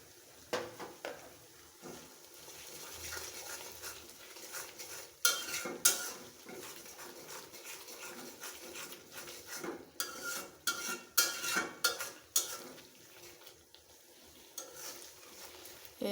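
Onion-stalk pickle with garlic frying in a pan while a spoon scrapes and stirs it, a soft steady sizzle under irregular metallic clinks and scrapes that come in busy clusters.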